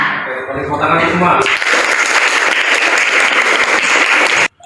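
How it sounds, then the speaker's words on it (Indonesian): A classroom of students in an Indonesian school lesson bursts into loud, dense group clapping after a teacher's voice, sustained for several seconds before stopping abruptly. "Tepuk tangan semua."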